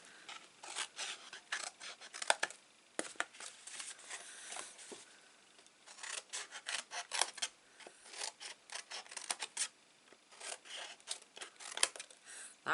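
Scissors snip through card for a gift stationery box in quick bursts of crisp cutting, with short pauses between runs, close up and fairly quiet.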